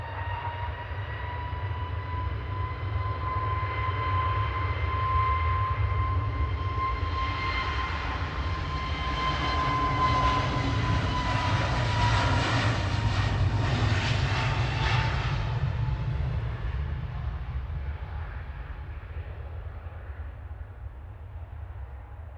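A Jet2 airliner departs Manchester Airport bound for Lanzarote, its loud jet engine roar and whine growing, peaking close by, then fading as it climbs off into the distance.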